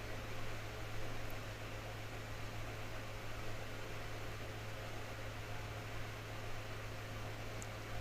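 Okra fries in oil in a pan, a steady, even hiss-like sizzle close by that holds without a break over a constant low hum, with no talking.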